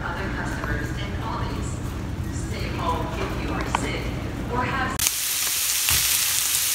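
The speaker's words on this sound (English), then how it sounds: "Making the stir fry, making the stir fry. That's what I'm cooking today." Chicken stir fry cooks in a pan with a constant close sizzle while a voice talks over it; about five seconds in, the hiss turns abruptly brighter and louder.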